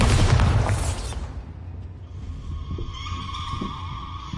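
In Hogwarts Legacy, a Bombarda blasting spell detonates with a heavy, close boom that lasts about a second, then gives way to a quieter tail of debris, scraping and faint tonal ambience.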